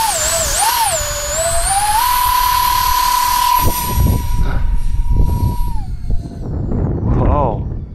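A 3D printed A-10 model jet with twin 40mm electric ducted fans whines loudly and steadily, its high pitch sliding up and down with the throttle. Strong wind buffets underneath, and a person talks briefly.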